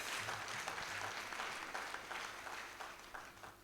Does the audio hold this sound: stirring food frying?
no